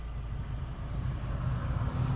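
A Seat Leon's engine runs at a steady idle, with the cabin heater fan whirring on its first setting, a low continuous hum heard close from inside the car.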